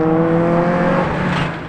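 A rally buggy or race car at a summer series round at Shackleton runs past with a rough, sick-sounding engine, a loud close droning roar that fades slightly as it moves away, with no voices.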